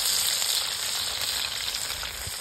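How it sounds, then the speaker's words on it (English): Crappie fish fry in hot oil over a campfire outdoors, giving a loud, steady crackling sizzle with dense popping, close up and continuous with no talk. "Crappie's frying really good."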